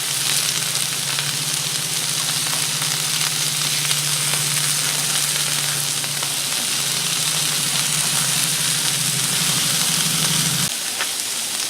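Honey garlic marinated chicken skewers sizzle loudly and steadily on a Blackstone griddle, a dense continuous hiss over a low hum that cuts off near the end.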